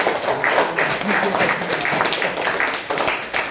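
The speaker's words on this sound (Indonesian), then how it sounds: "mari kita tepuk tangan untuk kita semua" A classroom of students claps together after a lesson, a dense, steady patter of hands filling the room at moderate loudness with some voices mixed in.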